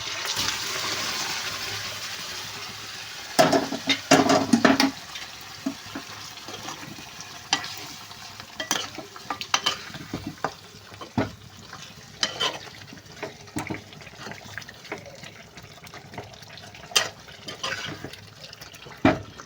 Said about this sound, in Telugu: ఇప్పుడైతే చికెన్ ఇందులో వేసేద్దాం